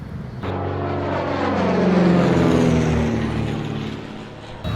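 A propeller airplane drones overhead, its engine tone rising and sliding as it passes close, loud and steady before easing off.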